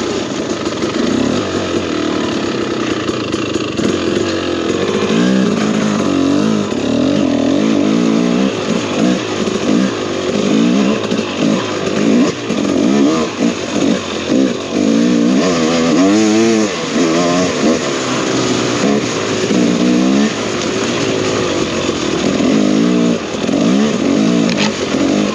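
A 2023 KTM 300XC TBI two-stroke dirt bike engine revs hard while being ridden, with loud, continuous, fluctuating throttle blips and rising and falling engine pitch, close up and without talk.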